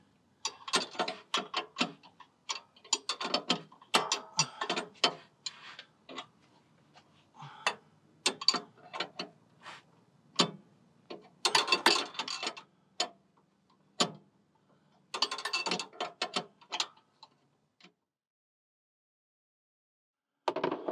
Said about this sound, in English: All right, we're going to get this bolt undone here.